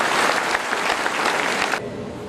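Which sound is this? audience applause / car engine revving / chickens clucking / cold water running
audience applause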